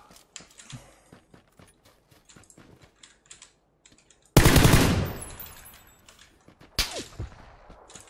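Gunfire in the battle game PUBG: scattered sharp shots and bursts, a louder close volley midway, with clicky keyboard typing throughout.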